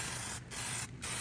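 An aerosol can sprays Plasti Dip rubber coating onto a car grille in three short, close hissing bursts separated by brief pauses, loud and near.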